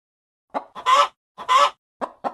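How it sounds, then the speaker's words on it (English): Farm hens cluck in short, sharp bursts, about five or six clucks in uneven rhythm, close and clear with no other sound between them. "Hens say cluck cluck."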